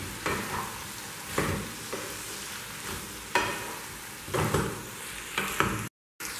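Pumpkin sabzi frying in a pan, spatula scrapes turning the pieces at intervals over a steady soft sizzle, ending in a short silence.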